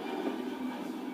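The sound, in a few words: airplane sound effect, Boeing 757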